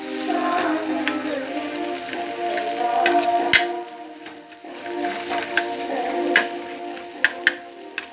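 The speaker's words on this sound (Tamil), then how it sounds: "நல்லா கிண்டி விடுங்க." Parotta is being stir-fried with egg, tomato and coriander in a hot pan. A continuous sizzle runs under it, and sharp metal clinks and taps from the stirring utensil sound close by.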